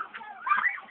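Ducks quack and chatter softly in a short, busy burst of overlapping calls, faint and fairly close, with no voices over them.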